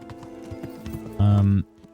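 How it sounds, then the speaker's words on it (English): A horse's hooves clip-clop at a steady rhythm in the medieval video game Kingdom Come: Deliverance, joined midway by a brief, loud tonal burst before the hoofbeats carry on. "What's this horse's name and why are you cheating on Pebbles"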